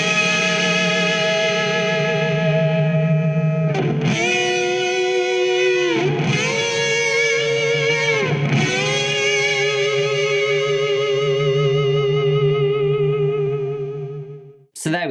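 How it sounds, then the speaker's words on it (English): An electric guitar on the bridge pickup plays sustained two-note harmony bends through a fuzz pedal into a 4x12 Greenback cab with hall reverb, loud and continuous, with short breaks between phrases. "I was on the bridge pickup, this time with the fuzz bender, and again, the 4x12 greenback loaded cab in the 2-note software with the R121 style mic and the Hall A reverb."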